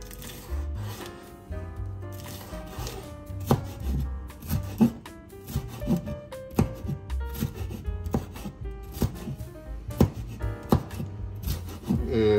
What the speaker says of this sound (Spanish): ya estoy terminando de cortar el pimentón en cuadritos